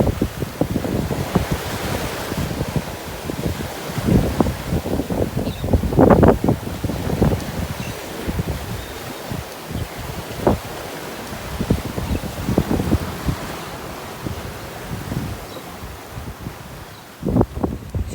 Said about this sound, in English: Just went from like 5 knots of wind to about 25, 28 with full sail out